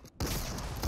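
A single sharp gunshot rings out in Fortnite, loud and abrupt after a brief moment of near silence.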